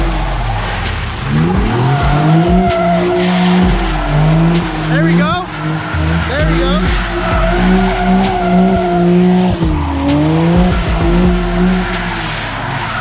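An Infiniti G37 slides around a large parking lot, its engine revving up and down while the tires squeal in long sweeping bursts, with a voice talking over the noise throughout.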